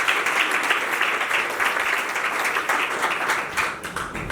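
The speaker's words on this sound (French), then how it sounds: "Acclamation." Steady, dense applause from a seated crowd fills a civil wedding ceremony hall, clapping continuously and evenly at moderate volume throughout.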